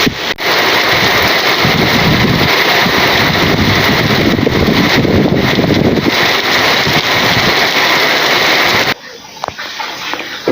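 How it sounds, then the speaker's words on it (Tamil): Wind and heavy rain lash down outdoors in Tiruvarur district, a loud, gusty wash of noise buffeting the microphone that cuts off abruptly near the end. "எப்படி காற்று மழையும் அடிக்குது."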